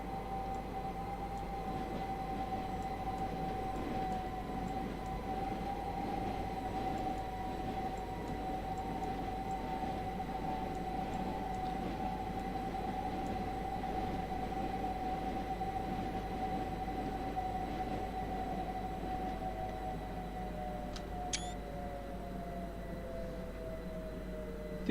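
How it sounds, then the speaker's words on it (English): A train running from Gatwick and Reigate to Victoria in a train simulator game gives a steady electric whine and rumble, with a sustained tone that holds and then bends downward near the end, plus a brief click. "Oh, train from Gatwick and Reigate to Victoria."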